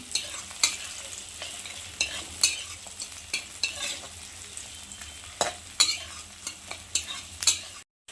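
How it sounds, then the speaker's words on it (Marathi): Green peas and green chillies stir-fry in hot oil, a soft, constant sizzle broken by repeated sharp spatula scrapes and taps against the pan, close and without talk. "वाटाणे पण आपण चांगले तेलामध्ये परतून घेऊया"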